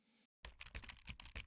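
Rapid keystrokes on a computer keyboard, a dense run of close, crisp clicks after a brief silent gap, entering code for a Node.js TypeScript backend.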